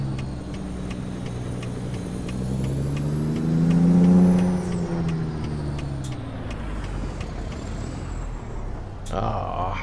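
A Peterbilt 389 truck in American Truck Simulator pulls away through Las Vegas, its diesel engine droning steadily, then swelling in pitch and loudness as it revs midway before settling back, with a brief hiss near the end.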